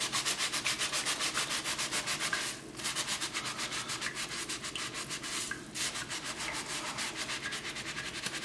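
Steady rhythmic rubbing as a Scrub Daddy sponge with Bar Keepers Friend scours a gas stove burner cap, close and loud, with two brief pauses in the back-and-forth strokes.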